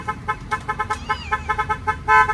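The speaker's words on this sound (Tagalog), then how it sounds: "Auto horn style, Pia" A motorcycle horn set to an auto horn style toots in rapid, evenly spaced bursts, about a dozen short honks, ending in one longer sustained blast, loud and close.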